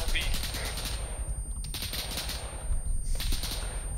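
Gunfire in Arma 3, bursts of rapid automatic shots heard at a distance, fairly faint and recurring in clusters over a continuous background rumble.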